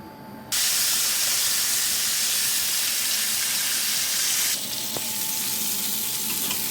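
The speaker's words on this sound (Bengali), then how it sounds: "আলু আর পটল একসাথে ভেজে নেব" Potatoes and pointed gourd frying together in oil make a loud, dense sizzling hiss that starts abruptly and holds steady, easing slightly partway through with a small click.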